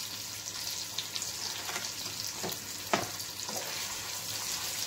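Onion frying in a pan as the base of a garlic rabbit sauce, a steady soft sizzle with scattered crackles and a few stirring clicks, close and without talk.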